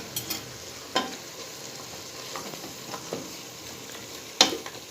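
Garlic-ginger paste cooks in a pan, a low steady sizzle broken by a handful of sharp spoon scrapes and clinks against the pan at irregular intervals.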